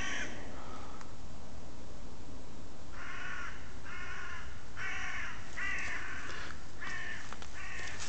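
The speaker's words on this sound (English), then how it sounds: "I think these crows, I think they just like overstate the point." Several crows caw outdoors in harsh repeated bursts, a run of six or so grouped calls from moderately near birds over a quiet background hiss, with no talking.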